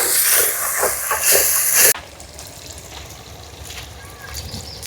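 Tomato pieces dropped into fried red onions set off a loud steady sizzling hiss that cuts off abruptly after about two seconds, leaving a quieter, faint background.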